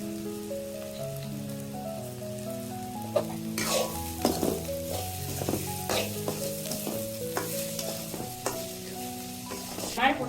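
Cauliflower sizzles as it fries in a pan, a continuous crackling hiss broken by scraping, clicking stirring strokes, with soft melodic music playing underneath.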